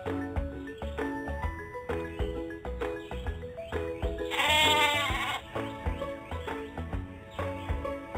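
A sheep bleats in a children's animal-learning game, one wavering cartoonish bleat in the middle rising over a bouncy tune with jingling notes that plays throughout.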